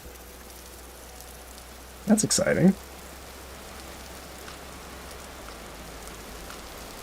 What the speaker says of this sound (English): Yeah, it's rain. That's definitely rain.